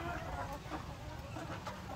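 Chickens cluck softly amid steady farmyard noise, from a late batch of young hatched birds at a poultry farm; scattered short calls come through a constant low rumble with faint voices.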